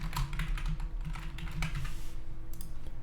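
Steady typing on a computer keyboard, with dense overlapping keystrokes continuing throughout over a low background hum, close and moderately loud.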